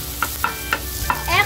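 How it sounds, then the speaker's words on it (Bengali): Onions and green chillies frying in hot oil for a Bangladeshi mola fish curry, with a steady sizzle broken by a few sharp stirring scrapes of a spatula against the pan at regular intervals, close and fairly loud. "এখন আমরা পেঁয়াজ মরিচ এবং তেল দিয়ে ভেজে নিব।"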